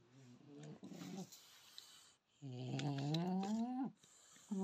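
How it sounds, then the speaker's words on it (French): A dog's snoring, heard as two drawn-out, nasal breaths with strong tonal rumble, the second longer and louder, followed by a brief start of a third; close and alone, with no talk. "Que Toto, il aura pas trop ronflé"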